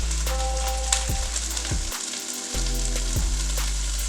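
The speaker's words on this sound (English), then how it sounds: "And while that's sizzling, I'm gonna go ahead and throw the peppers in there as well." Diced peppers tossed into a hot pan for a tofu scramble, a loud steady sizzle with several sharp clanks and scrapes of stirring, close and with no talk.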